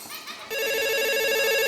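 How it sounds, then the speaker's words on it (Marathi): A telephone rings at close range, a steady electronic ringtone beginning abruptly after a brief moment of background noise and continuing loud and unbroken. "phone वाजतोय कधीचा phone"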